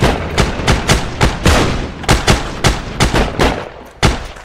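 Rapid bursts of gunfire in the World War II shooter Heroes & Generals, with an M1 rifle and Thompson submachine gun in play, cracking loud and close in uneven volleys with short pauses between.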